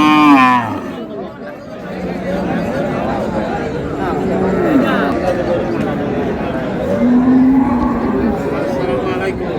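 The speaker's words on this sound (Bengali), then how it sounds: "গাভী বাছুর।" A dairy cow with her female calf at the Raniganj cattle market in Dinajpur gives loud, drawn-out moos close by, while people talk and the market crowd chatters around them.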